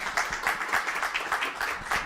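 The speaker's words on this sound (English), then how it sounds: "Give them a round of applause again" A congregation applauds, brief dense clapping from many hands in a room, fairly even and sustained.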